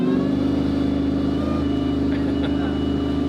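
A supercharged Hellcat-swapped Dodge Ram runs loud and close, a sustained throaty engine drone with a steady high tone threaded through it, unbroken for a few seconds.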